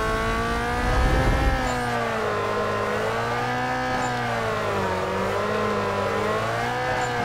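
Toyota Corolla AE86 engine in Need for Speed Carbon holding a steady high-revving drone that rises and falls in pitch as the throttle changes, loud and close with no talk.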